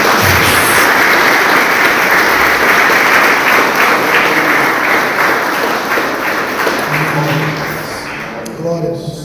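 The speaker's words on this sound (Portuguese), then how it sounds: "Você pode aplaudir o Senhor bem forte, em nome de Jesus" A church congregation applauds loudly and continuously, a thick, sustained wall of clapping that gradually fades near the end as voices begin to come through.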